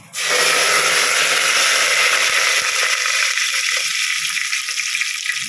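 Curry leaves, fennel, cloves, bay leaf and cinnamon drop into hot oil, bursting into a loud, sudden sizzle that stays dense and crackling, then eases slightly toward the end.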